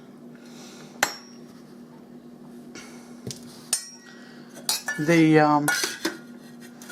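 A metal spatula scrapes and clinks as it is worked between a raspberry cheesecake made under pressure and the bottom of its push-up pan, with a few sharp taps and then a brief grating scrape near the end, close and fairly quiet.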